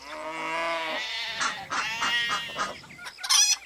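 Farm animals in a garden: a long wavering bleat opens, then chickens cluck in short, busy bursts, close and moderately loud, with no talking.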